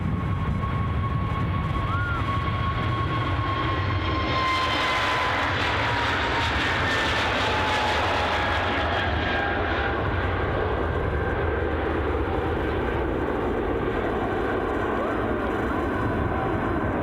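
A returning Ryanair airliner at Edinburgh Airport gives a steady, loud engine roar with a slowly falling whine, continuous throughout and fairly close.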